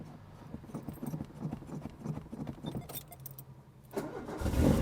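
An old French car, a Gauloise, cranked over in a few uneven starter bursts before the engine catches and roars loudly near the end, heard close up.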